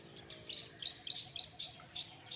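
Faint, repeated high chirps from a bird at a regular pace, over a soft steady hum and distant insect buzz.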